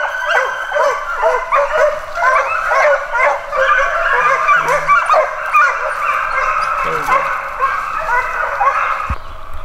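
A pack of foxhounds bays and yips continuously at a fox hound field trial in the field, overlapping loud, close cries with whining notes that carry on throughout.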